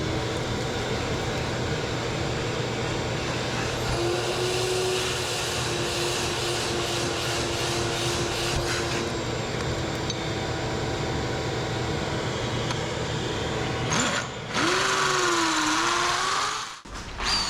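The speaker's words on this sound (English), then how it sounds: "our hammer drill here is a bit wore out, so it's not really hammering very hard" A worn-out hammer drill bores into the floor while a Bendpak 10AP-168 lift is being installed, giving a long, steady mechanical grinding whine. It changes pitch and cuts out briefly near the end.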